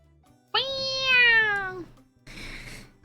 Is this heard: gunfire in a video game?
no